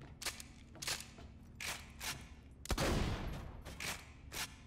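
Rapid bursts of Torgue shotgun fire in Borderlands The Pre-Sequel, about eight loud punchy blasts in quick uneven succession, one heavier boom in the middle, no talking.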